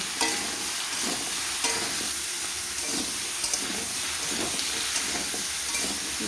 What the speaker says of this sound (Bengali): সুন্দর করে লাউগুলোকে ভাজা করে নেব